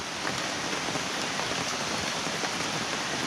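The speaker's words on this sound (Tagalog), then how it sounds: "Pero wala, mahina pa tong ulan na to eh." Light rain falls around the Cavinti Cave area, a steady, even hiss of drops on surfaces that holds at constant loudness for the whole stretch, with no voices over it.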